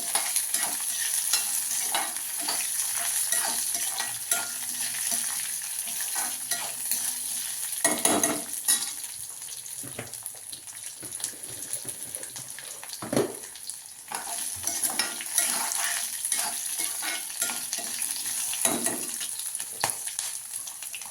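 Green chillies fry and sizzle in a pan for ridge gourd peel chutney, with steady stirring scrapes and clatters, close and continuous with no talking.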